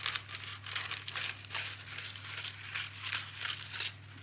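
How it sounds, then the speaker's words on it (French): Parchment paper being cut and handled in a kitchen gives soft crinkling and rustling in repeated short bursts, faint and close, over a low steady hum. "je vais découper mon papier sulfurisé"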